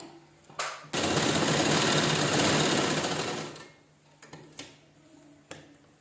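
A sewing machine stitches fabric in one steady, loud run of rapid mechanical whirring lasting about three seconds, with softer clicks and handling knocks before and after.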